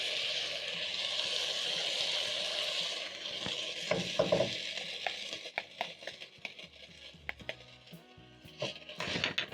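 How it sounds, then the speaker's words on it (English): Garlic and ginger fry in a pot while being stirred, a steady close sizzle for the first few seconds that thins out as scraping spoon strokes and knocks against the pot take over. "Just keep on stirring as everything is cooking because garlic and ginger burns really fast"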